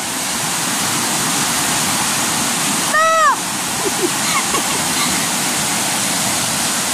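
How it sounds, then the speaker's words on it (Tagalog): A strong stream current rushes loudly and steadily, a dense close roar of water that never lets up, with a brief higher whistle-like sound cutting across it midway. "Sobrang lakas ng agos ng tubig."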